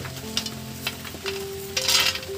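Peanuts roasting in a pan make a soft, close dry rustling and scraping as they are stirred, with a faint steady background hum.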